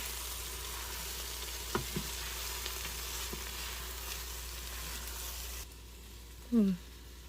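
Onions, garlic and mushrooms fry in a pan as a rib eye steak topping, a steady low sizzle with a few soft clinks, the hiss dropping away near the end before a short voiced murmur.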